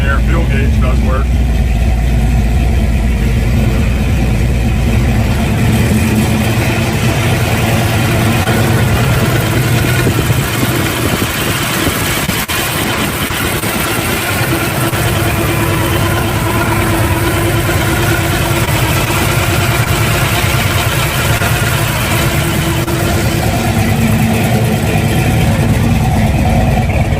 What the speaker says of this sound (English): Awesome sounding exhaust on her.